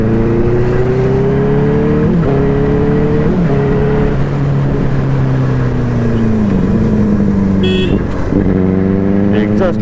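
Loud stock exhaust of a Benelli 600i motorcycle drones and revs up and down in repeated gear shifts, a throaty rising and falling engine note heard up close throughout.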